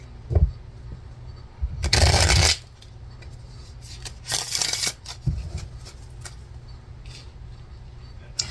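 Tarot cards are shuffled in two loud bursts of riffling, with a few softer taps and rustles of the deck in between, close up and with no talk.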